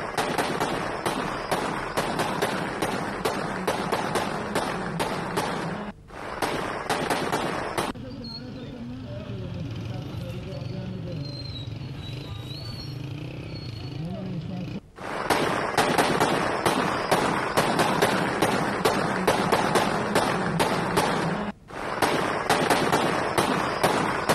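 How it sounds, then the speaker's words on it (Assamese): Celebratory gunfire at a Taliban-supporting militant rally in Pakistan: rapid, sustained bursts of shots crackle loudly in long runs, broken by a quieter stretch of crowd noise and a few brief pauses. "প্ৰথমে উলিয়ালে ৰেলী আৰু পিছতে গুলী ফুটাই কৰিলে বন্য উল্লাস"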